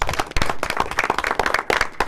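A small group at a recognition gathering claps for an absent honoree. The claps are sparse and uneven, a few distinct hands close by, brief and moderately loud.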